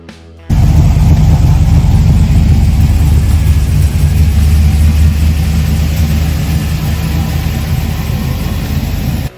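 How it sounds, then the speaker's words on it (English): A Chevrolet LT4 V8 in a Chevelle idles loud and close, with a deep, steady, throbbing rumble that holds evenly after starting abruptly and stops at the end, with no voices. "Man, I love these LT4 motors. They are bad."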